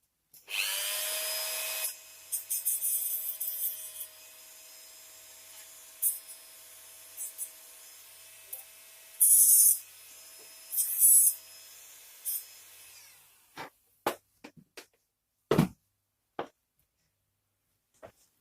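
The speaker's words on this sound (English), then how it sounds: "I'm just going to give that a quick blitz with the Dremel just to get the worst of the misalignment off it." A Dremel rotary tool grinds down a misaligned part on a model AEC shunter locomotive, its steady high whine running for about thirteen seconds with brief louder bursts, then several short sharp clicks and taps follow in near silence.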